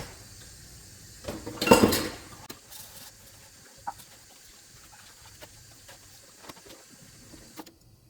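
Dishes and utensils clatter in a short loud burst, followed by scattered lighter clinks and knocks in a quiet room.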